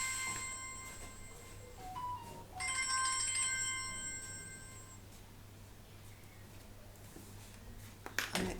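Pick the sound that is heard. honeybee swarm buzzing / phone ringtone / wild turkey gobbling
phone ringtone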